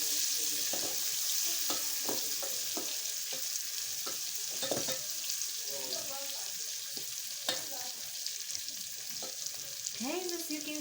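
Onion sizzles steadily in hot oil while being stirred, with a constant frying hiss and frequent scraping clicks of a utensil against the pan, close up and without talk.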